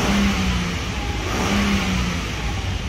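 A 2012 Ford F150 with a 3.7L V6 revs steadily at around 2000 RPM, the engine tone rising and falling slightly in a loud, close, continuous drone.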